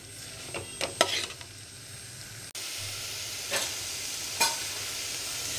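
A spoon scrapes and stirs ingredients in a pan for daliya, with a few sharp clinks and scrapes over a steady low kitchen hiss and a faint hum; no one speaks.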